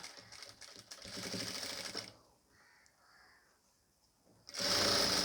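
Sewing machine stitching a nighty neck piece, running in two loud bursts of rapid whirring stitching with a quieter, softer stretch of machine running between them.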